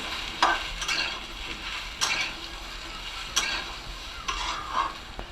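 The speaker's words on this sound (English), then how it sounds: "Let this stir them and mix well." A spatula scraping and stirring taro in a sizzling pan, with several distinct scrapes spaced a second or so apart over a steady frying hiss.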